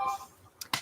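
A phone interrupts with a couple of short, bright electronic tones near the end, sharp and close, following a moment of faint speech-like sound.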